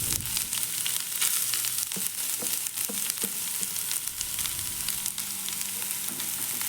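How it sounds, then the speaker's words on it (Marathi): Grated carrot sizzles in ghee over high heat for gajar halwa, a close, busy frying hiss broken by scraping stirs and small pops, with no speech. "ह्या तुपावर ना हे किस आपण गाजराचा जो बनवून घेतला ना तो व्यवस्थित परतवून घेऊ जा"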